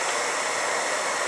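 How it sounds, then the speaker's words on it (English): A hair dryer blows into a gun safe, a steady close broadband whoosh of air with no pauses. "I just want to take a hairdryer"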